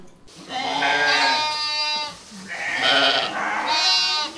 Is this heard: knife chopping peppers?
no